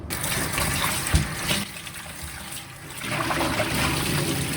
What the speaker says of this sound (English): Give your chicken a wash.